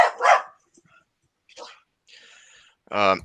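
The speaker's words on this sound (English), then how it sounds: "my dog's just decided to get grumpy" A grumpy dog barks in a few short, separate bursts indoors, close and fairly loud with quiet gaps between.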